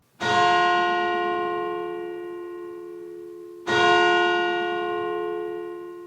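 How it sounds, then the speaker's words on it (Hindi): Two deep, resonant bell strikes a few seconds apart outside at night, each ringing out and slowly fading, like a large bell tolling. "बाहर घंटी बजने का आवाज"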